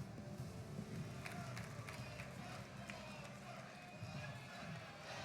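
A video-game wrestling crowd in WWE 2K22 roars steadily in the background, a continuous far-off cheer with scattered claps under commentary.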